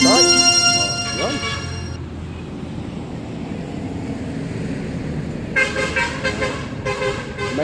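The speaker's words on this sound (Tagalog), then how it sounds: "Hoy, huwag ka maingay, bus." A noisy bus on a road sounds its horn in loud repeated toots, with engine rumble and traffic noise running underneath; a voice talks over part of it.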